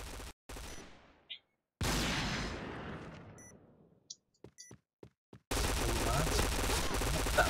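K5 gunfire in the shooter game Point Blank, loud bursts of rapid shots cutting in and out, a run of short single shots, then a sustained dense volley at the end, with no talking.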